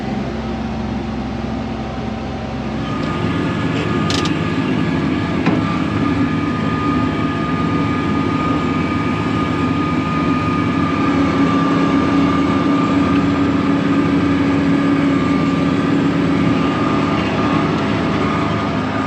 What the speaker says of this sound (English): I'm still using the John Deere mower today because doing the pastures is rather rough